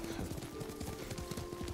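Rhythmic clip-clop of horse hooves at a steady ride in Ghost of Tsushima, close and continuous beneath low background voices.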